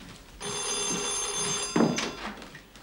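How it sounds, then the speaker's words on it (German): An old-style telephone bell rings steadily for over a second in an indoor setting, loud and sustained, then cuts off with a thump and handling noises. "gehen Sie ruhig zum Telefon"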